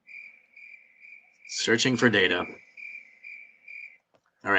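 A crickets-chirping sound effect trills steadily at an even pulse, and a voice speaks briefly over it partway through.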